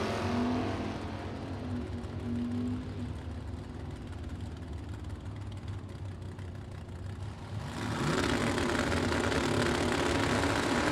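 Drag race at a dragstrip between a 1978 Camaro and a 1988 Camaro, a steady engine roar heard from a distance that swells sharply louder near the end as the cars pass.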